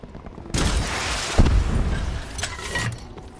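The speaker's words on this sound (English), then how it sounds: "I'm gonna shoot a rocket at him." A rocket fires in Call of Duty: Black Ops 4's Blackout mode on Alcatraz, a loud broadband whoosh and blast followed by a sharp burst and crackling debris, with no speech over it.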